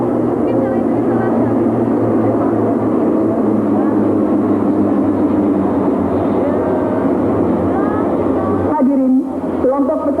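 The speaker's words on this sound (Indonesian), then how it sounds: "Di belakang kelompok Bronco, masing-masing 6 pesawat CN-235." A formation of six CN-235 transport aircraft flies past at a military air show, producing a loud droning propeller-engine hum that holds steady and then shifts near the end, with a voice speaking over it.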